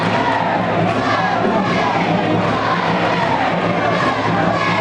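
Loud, steady roar of a big home crowd packing a high school gym for a boys' basketball game, a dense wash of voices and cheering that carries on without a break.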